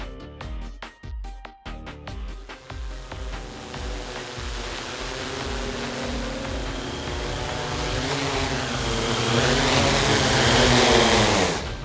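A Yuneec Typhoon Q500+ quadcopter drone whirs through its flight, a steady buzzing motor whine that swells and rises in pitch toward the end, preceded by a few rhythmic clicking pulses.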